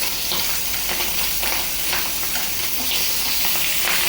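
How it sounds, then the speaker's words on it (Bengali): Pabda fish frying in oil in a pan in a home kitchen, giving a steady, close, unbroken sizzle and crackle with no talking over it. "পাবদা মাছ ভাজা আছে, এটা দিয়ে তরকারি রান্না করব আর এই চারটা ভেজে দিব।"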